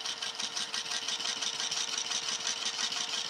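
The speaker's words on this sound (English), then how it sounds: "it is a straight stitch only machine" A straight-stitch-only sewing machine stitches steadily at stitch length 3, giving a fast, even mechanical chatter that stays close and continuous with no pauses.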